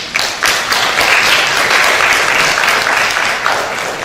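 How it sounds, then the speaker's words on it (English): Dense, steady applause rises from an audience at an International Day for Girls in ICT celebration, applauding the organizers with no voices. "Please clap for the organizers."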